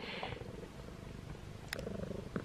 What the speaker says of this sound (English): And he's already purring.